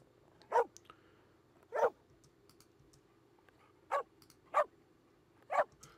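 Single sharp dog barks layered in a sound-design session, five distinct barks spaced irregularly over a quiet low hum, close and clear with no talking.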